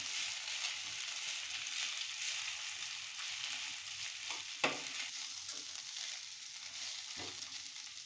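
Flattened rice (aval) is stirred in a pan with onions and chillies, a soft continuous hiss under scraping, with a couple of sharper knocks of the spoon against the pan.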